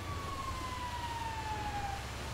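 A fire truck siren in a video game sounds at a distance, one slow falling wail sweeping over a steady low engine-like rumble.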